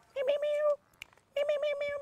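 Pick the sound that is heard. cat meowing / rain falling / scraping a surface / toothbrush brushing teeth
cat meowing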